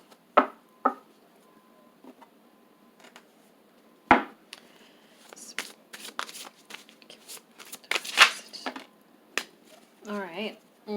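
Tarot cards from the Dark Mirror deck are shuffled and handled in a series of sharp riffling bursts and taps with pauses between, close and fairly quiet, and a brief voice sound comes near the end.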